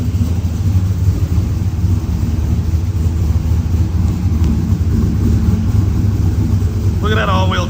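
A turbocharged 6.0 AWD Chevrolet Silverado engine rumbles steadily under load while the truck backs up in reverse, a dense continuous low drone throughout, with a brief higher whine near the end.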